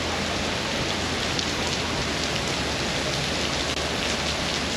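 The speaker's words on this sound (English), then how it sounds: "it is pouring here." Heavy rain pours down steadily in Guayaquil, Ecuador, a dense, unbroken hiss of drops striking surfaces, loud and close, with no pauses or voices.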